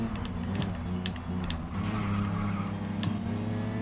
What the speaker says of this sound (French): La voiture qui a décroché quand j'ai freiné.